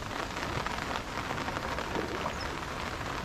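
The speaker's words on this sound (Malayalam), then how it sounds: "വീണ്ടും മഴ ശക്തി പ്രാപിക്കുകയാണ്." Rain falls during an outdoor walk in Kannur, Mayyil, as a steady dense hiss of drops on surfaces that stays even and continuous, with no voices.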